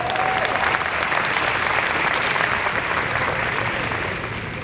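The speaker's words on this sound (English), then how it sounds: "could you give this band another round of applause?" An audience at an anniversary gala applauds the band with sustained, even clapping that holds strong for several seconds and then eases slightly toward the end.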